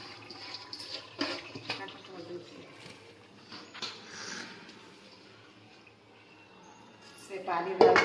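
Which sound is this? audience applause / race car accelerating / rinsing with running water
rinsing with running water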